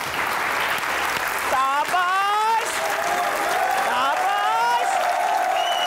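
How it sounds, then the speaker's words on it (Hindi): An audience on a stage show claps full and steady to welcome a guest, with a voice talking over the applause and a few cheers. "आपकी भरपूर तालियों में"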